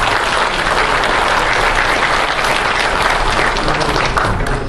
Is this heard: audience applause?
yes